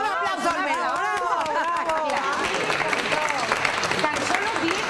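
A studio audience applauds on a Spanish television show, clapping mixed with crowd chatter while a presenter's voice carries on over the top.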